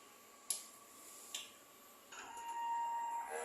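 DTF printer running a print head clean cycle: a couple of sharp mechanical clicks, then a rising whirring motor drone with a thin whine, close by and without talking.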